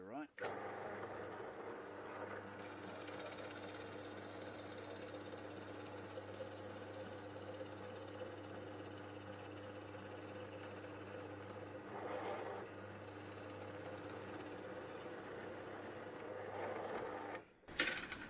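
A power drill bores two holes into a wooden chisel holder in a workshop, a steady, loud mechanical hum that runs almost without a break before cutting off near the end.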